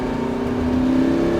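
Car engine pulling hard as it accelerates through a cone-marked driving course, a steady, close, rising drone with no voices.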